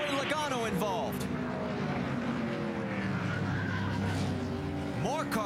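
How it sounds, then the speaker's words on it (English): Race cars crash and spin in a multiple-car NASCAR pileup, with a sustained engine roar and tire screeches, under loud excited commentary throughout. "More cars still spinning in this multiple car crash."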